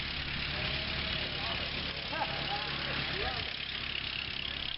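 A World War I-era 1917 Nash Quad army ammunition truck with its original 28.9 horsepower four-cylinder engine runs at a steady, rough idle, a constant mid-pitched engine drone with faint background voices.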